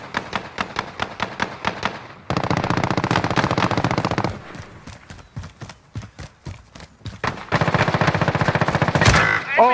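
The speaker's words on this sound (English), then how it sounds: "Oh, I was getting shot by 2 people." Rapid automatic gunfire in Call of Duty Warzone rattles in dense, loud bursts with short pauses between volleys, close and continuous, no talking over it.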